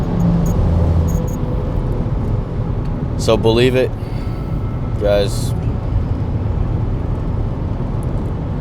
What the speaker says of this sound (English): I hope this car ride wasn't too loud. I'm on the highway